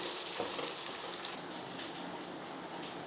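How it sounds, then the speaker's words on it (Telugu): Onions fry in oil, browning for a chicken pickle, a soft continuous sizzle and crackle at low level with no voices over it. "అదే నూనెలో ఇట్లా ఉల్లిపాయలు వేసి ఎర్ర ఇవ్వాలి ఎర్రగా గోలితే బాగుంటుంది"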